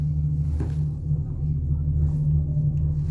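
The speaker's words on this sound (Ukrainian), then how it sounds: "І поки я їду на фуніколері" Riding inside a funicular car climbing the mountain to the Millennium Cross in Skopje: a steady low mechanical rumble and drone, continuous and fairly close, with no voices.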